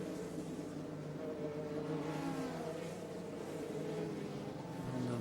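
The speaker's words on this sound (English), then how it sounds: "on the back of Dindo Capello in the number 2 Audi" Audi race car circulating at Mosport in a 2002 American Le Mans Series round, heard as a continuous, moderately distant engine drone with shifting pitch and no voices.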